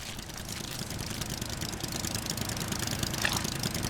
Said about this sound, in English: Yes, you hear that. That is an engine.